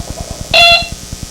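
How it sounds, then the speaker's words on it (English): A single short, loud electronic beep from a battery-powered bicycle horn on the handlebars sounds once in the middle, over a quiet, steady ticking pulse. "the sound you just heard was the horn working from the handlebars of my bike"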